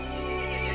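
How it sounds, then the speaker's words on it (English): A horse in the video game Resident Evil Village lets out a single loud, sustained whinny, close and clear with no talking over it. "The horse grew angry and summoned the other monsters."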